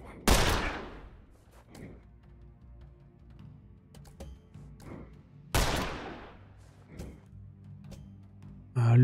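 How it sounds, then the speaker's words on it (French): Pistol shots in The Lamplighters League video game: two sharp, loud gunshot blasts several seconds apart, each with a long ringing tail, with fainter thuds and game sounds between them. "on va lui tirer dessus. Avec son tir de pistolet."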